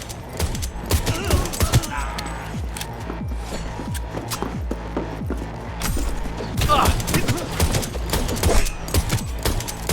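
Rapid volleys of gunfire in the video game Cyberpunk 2077, with dense bursts of shots and thuds and voices shouting in French over them.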